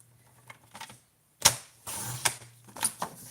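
A paper trimmer slices cardstock down for a card insert, giving a few sharp mechanical clicks and sliding scrapes in quick succession, close and fairly loud.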